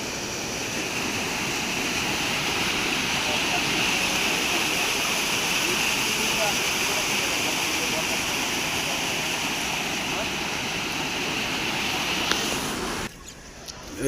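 Water rushing through the DVC canal lock gate at Pandua, Hooghly, a loud, continuous roaring flow that holds steady for most of the clip before cutting off abruptly near the end.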